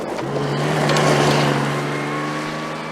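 A Tuthill-prepared rental Porsche rally car on a historic forest stage roars past with a loud, sustained engine note that rises toward the middle and stays steady, close and alone.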